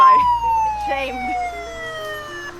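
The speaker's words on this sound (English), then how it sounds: "a mechanic installed for the reverse drive, he installed an emergency ambulance siren" An ambulance-style siren fitted as a vehicle's reverse alarm wails in a long, loud, descending tone, with fainter shifting tones beneath it and traffic rumble in the background.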